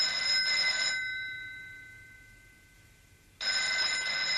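A telephone bell rings in two bursts with a long pause between them, the first ring fading out slowly, loud and close with no voices.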